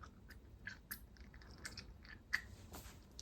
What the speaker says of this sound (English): Sorry if you can hear me chewing gum.